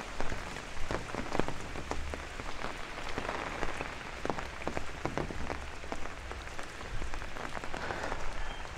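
Rain falls steadily on a city street at night in Bay Ridge, Brooklyn, a soft continuous patter with crackling drips and splashes nearby, moderately quiet with no talking.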